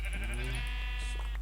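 A sheep in Minecraft gives a single drawn-out bleat of about a second, near and clear, with no other sound around it.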